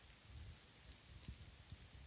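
Light rain falls in an autumn forest, a soft, steady hiss of drops on leaves. It is faint and distant, with a couple of slightly louder drips.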